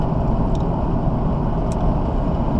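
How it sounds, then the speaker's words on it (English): A salt truck passing on a road early on a May morning, a steady, broad rumbling engine and road roar that holds loud and even throughout, with no one speaking. "Got a salt truck coming."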